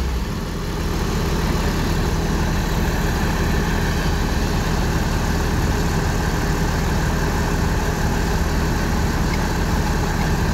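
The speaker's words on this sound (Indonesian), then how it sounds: "Mesinnya kan masih enak kan dengarnya, garing, masih halus, sangat terawat mesinnya" A well-maintained Lorena intercity bus idles its diesel engine at a stop, a loud, steady close rumble with an even, continuous drone and no speech.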